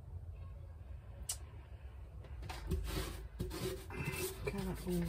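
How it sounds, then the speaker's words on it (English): Surface rust on metal is rubbed down by hand in quiet scraping strokes, faint and irregular, with a few sharper knocks and rasps. "Some serious surface rust that needs to be rubbed down."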